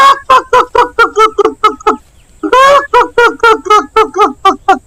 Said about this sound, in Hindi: राहुल अपने पापा को देखकर जोर जोर से चिल्लाने और फड़फड़ाने लगता है।